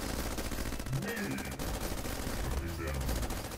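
Sentry turrets in the video game Bionic Dues fire rapid, continuous automatic bursts that form a steady mechanical rattle of gunfire with no pauses.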